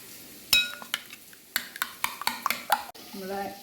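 Beaten eggs with oregano stirred briskly in a bowl for a prawn frittata, giving a run of sharp clinks and scrapes of utensil on dish, close and fairly loud, with a short low voice-like tone at the end.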